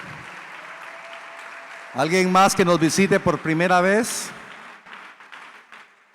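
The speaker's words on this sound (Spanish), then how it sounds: "Démosle un fuerte aplauso al Señor" A congregation's applause rises in a church service as visitors are welcomed, a soft clapping wash heard mostly beneath a man's loud spoken question before it thins out.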